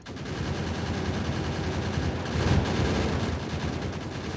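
Guns shooting asteroids in Bolds Space Exploration Adventure, a continuous rapid rattle of gunfire with a low rumble, swelling louder midway and holding steady.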